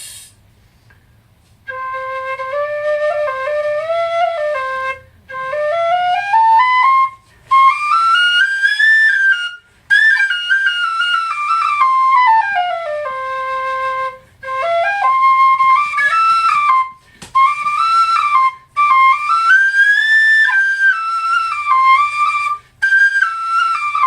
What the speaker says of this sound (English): here's the D, or the C whistle, Mezzo C.